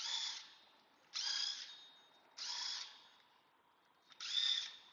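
A stud cleaner tool spinning on the rear brake rotor wheel studs of a 2019 Ford Escape, four short high-pitched whirring bursts of about a second each, evenly spaced with brief quiet gaps, faint and alone.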